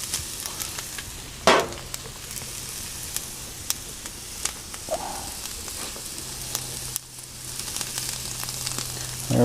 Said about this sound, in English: So hear that sizzle if you can hear it.